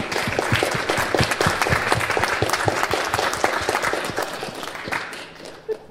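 An audience applauds after an esports conference talk, a dense, steady clapping from a room full of people that continues for several seconds before tapering off near the end.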